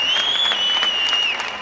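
Crowd applause rings out across Spain in thanks to the country's doctors, a dense, steady patter of many hands clapping with a whistle-like tone held over it.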